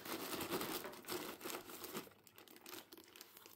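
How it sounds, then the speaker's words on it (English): A plastic bag of ice is pressed into a foam cooler, giving faint, close crinkling and rustling of plastic with soft squeaks as it is pushed into place. "Now put the bag into the foam cooler and press it against one side to make room for the other bag."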